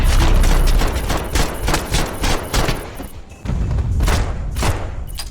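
Gunfight in the video game Max Payne 3 at a stadium concession area: dense bursts of rapid gunfire and heavy thumps, loud and nearly continuous with brief lulls between volleys.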